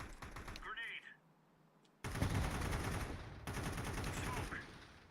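AK rifle fire in a shooter video game: loud, dense bursts of automatic gunfire crackle continuously after a brief quiet stretch near the start.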